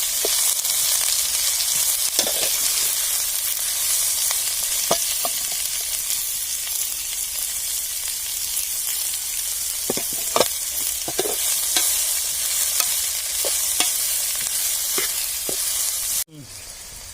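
Onions sauté for Kerala egg roast in a pan with a constant close hiss of frying, broken by occasional sharp scrapes and taps of a spoon stirring, ending abruptly.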